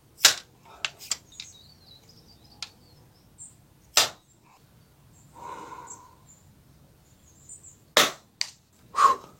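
A Zoraki HP1 Ultra air pistol fires pellets at a target, sounding as sharp isolated cracks, one early, one near the middle, then a closer pair toward the end, with quiet gaps, small clicks and a brief murmur between.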